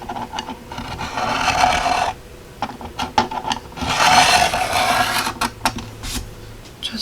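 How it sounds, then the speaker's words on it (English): The track of a paper trimmer is scrubbed clean in short, close scratchy rubbing strokes. Bursts of rasping alternate with quieter gaps and a few small clicks, with no talking. "So I am going to clean that track out one more time."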